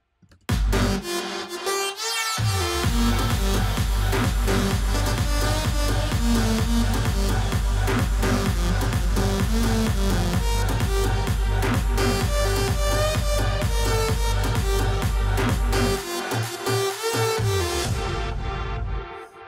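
Electronic drum fill built in Ableton with a rising filter cutting the low end, a steady dense loud rhythm with pulsing chords and bass that drops out near the end, no voices.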